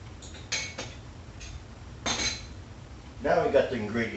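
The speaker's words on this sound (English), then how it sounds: "Mix all this up real good." Batter ingredients, including canned milk, being mixed in a bowl for chicken fried steak, heard as a few scattered clinks and scrapes of utensil against the bowl, followed by a longer stretch of busier stirring toward the end.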